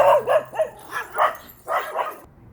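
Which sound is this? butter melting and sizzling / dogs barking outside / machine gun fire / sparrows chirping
dogs barking outside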